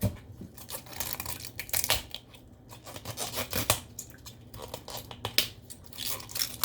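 Leaves are peeled and snapped off a whole cauliflower in close rustling, tearing and crunching bursts that come irregularly over several seconds, with no speech.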